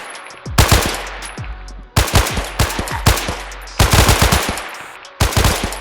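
Bursts of automatic gunfire from the zombie first-person shooter Project H.A.Z.A.R.D., several sharp rapid volleys separated by short pauses, loud and close with no voices.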